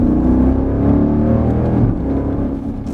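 Deep, steady engine roar of a 2020 Dodge Durango SRT 392 V8 on the road, a loud, continuous rumble with a rich low growl and no voices.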